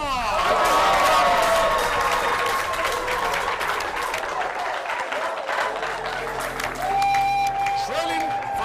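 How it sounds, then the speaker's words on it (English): A crowd at a secondary school quiz competition gives a quiz finalist a round of applause, loud dense clapping with some cheering throughout, fading slightly toward the end. "A round of applause for her too."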